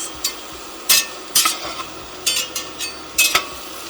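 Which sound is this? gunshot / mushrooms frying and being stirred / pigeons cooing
mushrooms frying and being stirred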